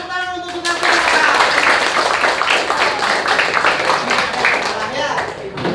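A primary school class at SD No. 1 Kerobokan breaks into applause, a steady wash of many hands clapping together for several seconds with faint voices underneath.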